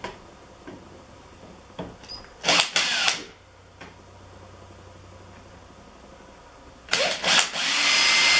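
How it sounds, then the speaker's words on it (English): A power drill with a 15/64 bit bores a hole while installing an upper rear A-arm and suspension brace kit on a race vehicle, in several loud, short whirring bursts separated by pauses. "I'm going to use a 15th 64 bit to drill the final hole."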